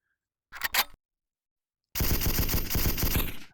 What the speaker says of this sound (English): you can just empty a whole magazine without having really missing your shot